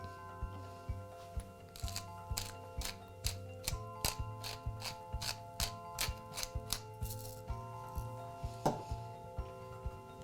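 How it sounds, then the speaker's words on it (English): A pepper mill cracks black pepper with a quick run of dry mechanical clicks, evenly spaced and fairly quiet up close, over a low steady hum and with no talk. "And a little bit of freshly cracked black pepper."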